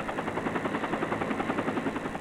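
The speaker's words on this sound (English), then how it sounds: "Helicopters present a different kind of noise problem, especially as the helicopter blade slaps the air." Helicopter rotor blades slap the air in a fast, steady chopping pulse over a broad engine roar, loud and continuous throughout the short stretch with no voices.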